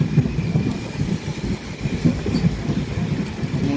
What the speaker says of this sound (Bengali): মুষলধারে বৃষ্টি যাকে বলে